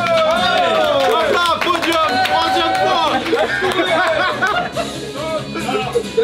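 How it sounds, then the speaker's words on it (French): Crowd applause and cheering at an outdoor event, clapping mixed with lively chatter, laughter and close voices talking over it throughout. "Applaudissements, mesdames et messieurs"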